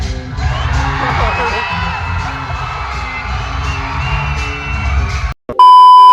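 A cinema crowd at a Rajinikanth film showing roars, cheers and shouts at the title card, a dense, loud wash of voices that cuts off abruptly near the end before a tone begins.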